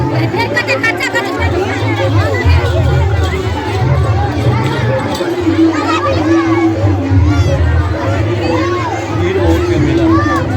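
Busy crowd hubbub at a village Durga Puja fair, with dense overlapping chatter, children's voices and shouts, and a low steady hum of music or machinery throughout.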